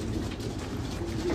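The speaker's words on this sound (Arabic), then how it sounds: "شوف الحمام يشرب" Homing pigeons coo softly and continuously nearby, low murmuring calls overlapping in a steady ambient chorus.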